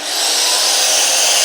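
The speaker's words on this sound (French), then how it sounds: "on va allumer la scie circulaire" A small circular saw powered by an Allpowers R2500 portable power station spins up and runs steadily, a loud close continuous high whine that rises quickly at switch-on and holds, with no talking.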